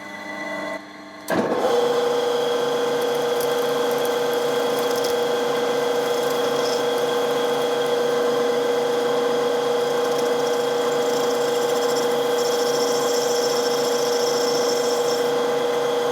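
A steady, continuous drilling drone with a sustained mechanical whine, close and loud, starting abruptly after a brief quieter moment and running without pause, as a 6.8mm tapping drill bores metal on a Dowty motorcycle fork.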